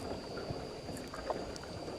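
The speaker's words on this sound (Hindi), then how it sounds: "किश्ती से थोड़ी सी कभी कभी आवाज़ आती है और पीछे भी जो हमारा चप्पू चल रहा है बस इसकी आवाज़ है।" Quiet rowing in a wooden rowboat on calm water at Tam Coc, Ninh Binh, Vietnam, with soft oar splashes and faint creaks over a steady outdoor hiss.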